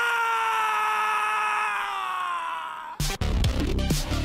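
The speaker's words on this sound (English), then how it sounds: "Crow then screams at life and the universe" A character in the RWBY animated show lets out a long, loud, sustained scream with a falling pitch, followed by sudden bursts of clashing noise for the last second or so.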